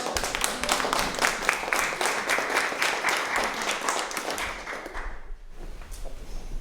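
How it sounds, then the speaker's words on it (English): A steady round of audience applause fills a museum show-and-tell, with close, dense clapping that runs for several seconds and fades briefly near the end. "a round of applause for Bill."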